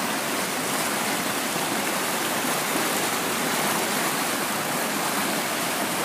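Water pours steadily over a waterfall in a park, a loud, continuous broadband rush close by with no break and no voices.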